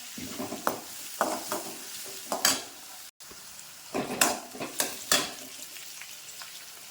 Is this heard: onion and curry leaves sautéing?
yes